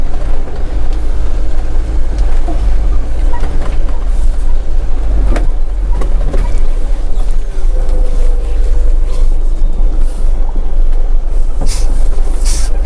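A manual car is driven and turned during a driving lesson, with a loud, close, steady rumble of engine and road noise throughout and no audible talking.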